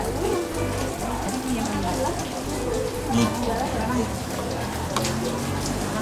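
Steady rain hisses on surfaces in a roadside eating spot in Aceh Singkil, a continuous wash of drops heard under people talking nearby.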